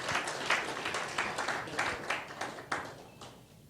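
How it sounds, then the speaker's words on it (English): Audience applause at a makeover event fills the stretch, a dense wash of many hands clapping with scattered sharper claps standing out, steady then easing toward the end. "Big, big round of applause, ladies and gentlemen."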